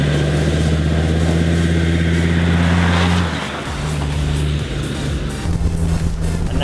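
A Land Rover Defender driven hard around a racing track, its engine holding a steady, loud drone from inside the cabin, briefly easing off just past the midpoint before pulling strongly again.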